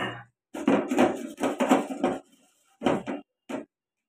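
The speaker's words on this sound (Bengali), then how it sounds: "এই লঙ্কা হলুদের মধ্যে আমি একটু জল দিয়ে গুলে নিচ্ছি।" A utensil clatters and scrapes in a bowl while chili and turmeric powder are mixed with water, in several short bursts of clinking separated by quiet pauses, close and fairly loud.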